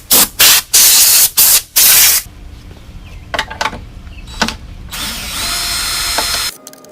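Compressed air blasts dirt off a small engine around its flywheel in several short loud hissing bursts, then softer clatter and a longer steady blow, all close up.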